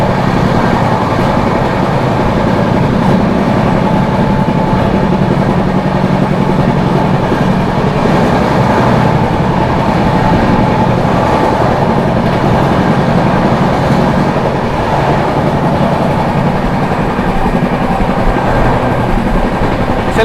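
Dehradun–Subedarganj Express (train 14114) overtaking the Sangam Express near Shikohabad Junction, a loud, steady roar of running wheels and rail noise lasting throughout, with faint clatter of passing coaches and no talking.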